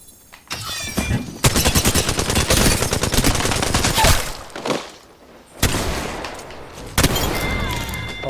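Alternator submachine gun firing in Apex Legends, rapid sustained bursts of close, loud automatic gunfire broken by short pauses and a brief quiet gap.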